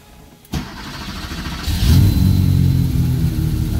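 A 1986 Porsche 930 911 Turbo with 600 wheel horsepower cranks over with a sharp starter click, then the engine catches and settles into a loud, steady, rumbling rev close by.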